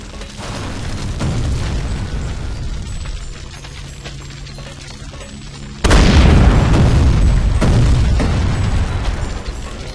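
Explosion in the zombie video game Land of the Dead: a loud, sudden booming blast that cuts into steady game noise and leaves a heavy rumbling roar afterward.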